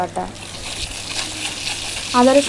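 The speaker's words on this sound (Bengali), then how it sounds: "আমি সামান্য নেড়ে চেড়ে নিয়ে ভালোভাবে আদা রসুনের কাঁচা গন্ধটা যাতে চলে যায় সেরকমভাবেই ভেজে নেব" Soft sizzling of ginger garlic paste frying in oil, with a brief voice murmuring near the end.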